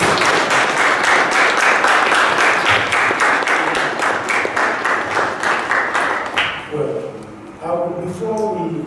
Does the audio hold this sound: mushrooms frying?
no